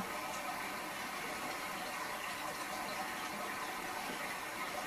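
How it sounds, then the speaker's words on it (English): Steady, even rush of running water fills the whole stretch at a constant level, soft and continuous with no talk over it. "it's the sound of nature, which is water sound"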